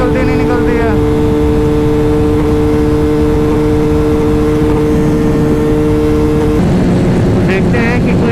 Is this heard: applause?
no